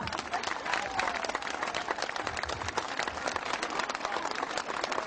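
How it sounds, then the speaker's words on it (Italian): Crowd applause fills a town square in Cerignola after a singer's performance, dense steady clapping sustained throughout at moderate distance, with some voices mixed into the crowd noise. "farmi un grandissimo applauso"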